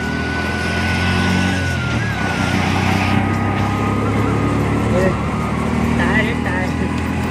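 An auto rickshaw ride on a highway, with a continuous loud engine drone and road rumble that stays steady throughout, plus faint voices in the background.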